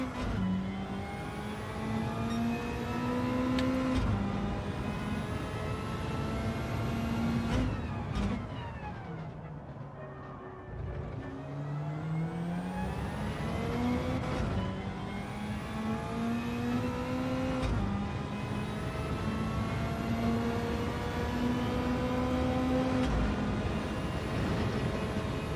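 A race car engine in Gran Turismo 7 during a practice lap, loud and close, whining up through the gears with repeated rising sweeps, dipping briefly under braking before climbing again.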